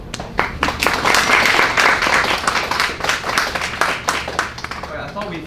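An audience at a live show bursts into loud, close applause, dense rapid clapping that swells and dips over several seconds, with scattered voices mixed in.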